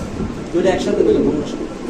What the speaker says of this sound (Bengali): দেখতে পাচ্ছেন দুটোটা কবুতর ডাকতেছে